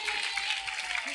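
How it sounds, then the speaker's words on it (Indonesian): A crowd applauds briefly at a religious gathering, a continuous wash of clapping for about a second with no talking over it. "tepuk tangan kagem Adik Albi."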